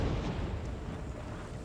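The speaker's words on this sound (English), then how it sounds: "And the cannon open." Artillery cannons open fire in an Empire Total War battle from the British campaign, a dense, continuous roar of overlapping booms and rumble that stays loud and steady, with no pause between blasts.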